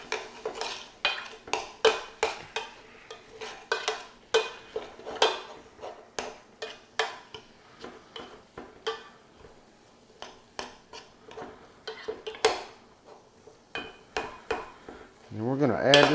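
A spoon clinks and scrapes against a bowl while brisket, melted cheese and potato filling are mixed, sharp irregular knocks in quick succession, close up, with no talking.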